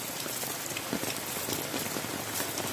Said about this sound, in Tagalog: Maulan, maulan, maulan.